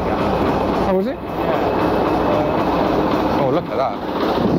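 An old-school train engine rolls past close by, a steady loud rumble and rattle of rail noise filling the clip, with people's voices breaking in briefly twice over it.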